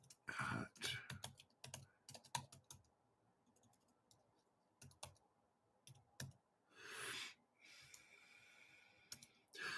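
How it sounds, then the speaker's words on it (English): Typing on a computer keyboard nearby, with bursts of rapid key clicks separated by pauses, plus a few louder breathy noises in between; no speech. "Let me type this in."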